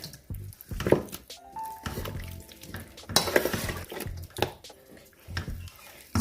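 Food being mixed in a pot in a home kitchen, with scraping and clattering stir strokes in irregular bursts, close and moderately loud, over a faint background.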